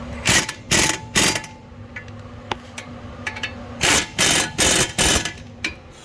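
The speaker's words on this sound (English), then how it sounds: "we'll secure these down with an 18 millimeter socket" A ratchet with an 18 mm socket tightens brake caliper bolts on a 2014 Ford Explorer, giving loud, close bursts of rapid clicking in two groups of strokes with brief quiet gaps and small knocks between them.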